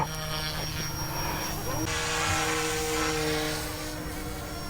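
A GOOSKY Legend S2 RC helicopter flies nearby with a continuous whining rotor and motor drone that rises and shifts in pitch, with people talking over it outdoors.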